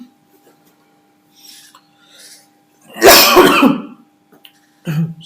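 A lecturer clears his throat and coughs during a lecture, in one harsh, close burst followed a moment later by a second, shorter one, with near silence between them.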